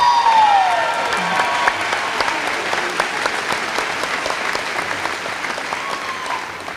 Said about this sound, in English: Let's honor these individuals for their willingness to serve our country by giving them another huge round of applause